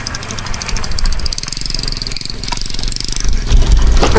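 Motorcycle built for city riding labors over rough rural terrain, its engine chugging in a close mid-pitched pulse that swells louder toward the end amid rumbling and clatter.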